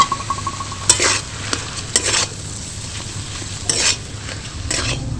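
Broken boiled potatoes are stirred into fried spices in a pan for a potato snack filling: a soft sizzle under repeated spatula scrapes and clanks against the pan, close and clear, without talking.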